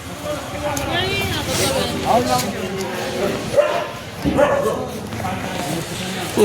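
A dog gives a few short barks and yips amid steady talking and background noise, fairly close by.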